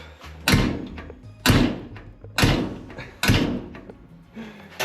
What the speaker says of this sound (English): The door won't close now.